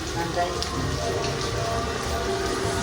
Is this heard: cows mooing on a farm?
no